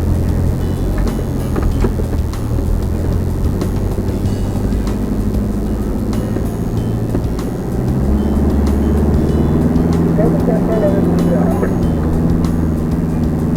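A four-wheel drive vehicle rumbles along on K'gari (Fraser Island), a steady low engine drone with road and wind noise throughout, and people talk over it.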